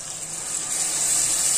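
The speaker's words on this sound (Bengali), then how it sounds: "এখন অল্প একটু পানি দিয়ে নেব" A little water is poured into a hot frying pan of fried onion, garlic and dried fish, giving a brief, steady hissing sizzle up close without talk.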